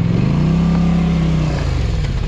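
A Polaris Sportsman 850 ATV engine revs hard and steadily while its wheels spin in a dirt hole, a loud, close, continuous drone that holds its pitch under load.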